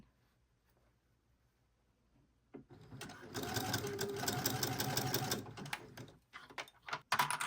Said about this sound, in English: it is just a lot easier sewing with the walking foot